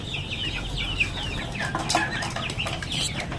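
Chickens and young chicks clucking and chirping at feeding time, a busy overlapping chorus of calls with a low background rumble, close by and fairly steady throughout.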